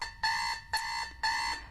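An old-style alarm clock rings in three loud, harsh, buzzing bursts, each about half a second long with short gaps, heard alone with no voices.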